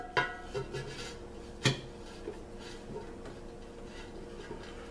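Metal pot handled during construction of a candle heater, a few sharp clinks and knocks, one stronger clang, then quieter scattered taps against a faint background.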